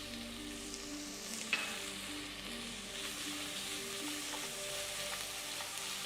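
Garlic and onions fry in oil and butter in a pan, a steady low sizzle throughout with a brief clink of stirring utensils, no voices.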